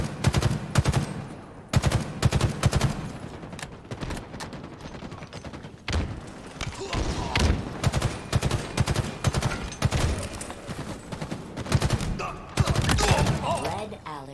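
Suppressive automatic gunfire in a Halo multiplayer match: dense, continuous bursts of rapid shots that keep hammering loudly for the whole stretch, with brief gaps and heavier impacts scattered through.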